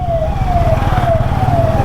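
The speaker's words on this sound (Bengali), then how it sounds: "অ্যাম্বুলেন্সের পাশে যায় হর্ন মারতেছে" An ambulance siren wails steadily with a repeating rising and falling tone, close and loud above the low rumble of road traffic in Bangladesh near the India border; no separate horn blasts stand out.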